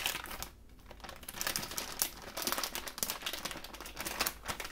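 A plastic bag holding green peppers from a home garden crinkles continuously and close up during lunch salad preparation, with dense, bright rustling and crackling that is recorded binaurally.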